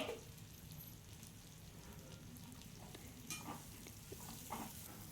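Cinnamon and tomato frying in a pan for a country chicken curry, a soft, steady sizzle with occasional stirring scrapes, fairly quiet and with no talk.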